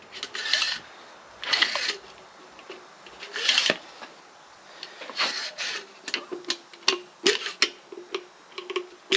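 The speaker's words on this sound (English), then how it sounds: "Pull the spring-loaded plunge rod gauge out completely and then move it to the side to lock it in place" The spring-loaded plunger rod of a Ridgid 18V grease gun is pulled out and shifted sideways to lock, producing a series of close metallic clicks, scrapes and ratcheting rattles in irregular bursts, loud and alone.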